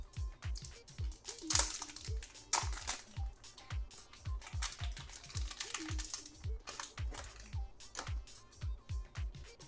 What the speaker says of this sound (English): Here is the main DJI Action 4 camera. Let's unwrap it.